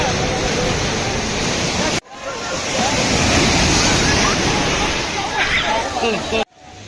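Sea waves wash onto the beach at Cox's Bazar, a loud, continuous surf roar mixed with wind buffeting the microphone. Two abrupt breaks interrupt it.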